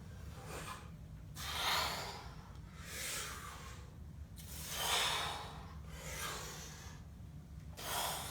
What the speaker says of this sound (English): Inhaling down, exhaling up.